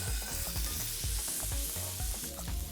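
Roast meat searing fat side down in a hot pan makes a close, strong sizzle with frequent crackling pops and spits throughout, and no one speaks over it.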